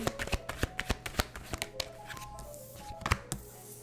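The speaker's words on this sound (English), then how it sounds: "Let's pull 3 cards." Tarot cards are shuffled and pulled by hand, giving a quick run of crisp riffling flutters and soft slaps at close range with a faint room background, and no voices.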